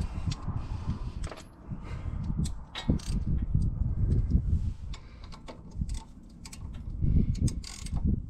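A socket ratchet clicks and turns while loosening the brake caliper bolts on a 2010 Dodge Grand Caravan, giving irregular bursts of metallic ratcheting and clunks close up, with quiet gaps between them.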